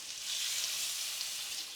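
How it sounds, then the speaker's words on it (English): Chicken frying in hot oil in a skillet, giving a steady, bright hiss of sizzling that holds evenly throughout, close and moderately loud with no talking. "You hear that sizzle?"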